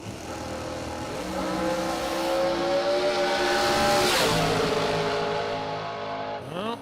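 A drag race car makes a full pass at a drag racing event. Its loud engine roar climbs steadily in pitch, peaks, then fades, and a fresh rev rises sharply at the very end.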